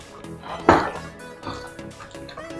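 A spoon scrapes and clanks against a cooking pot while porridge yam is stirred, with one sharp metallic knock near the start followed by softer scraping sounds.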